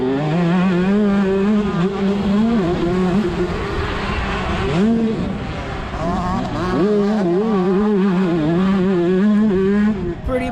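125cc motocross motorcycles, a Husqvarna among them, race past with loud, high-pitched two-stroke engines revving up and down continuously and overlapping at close range.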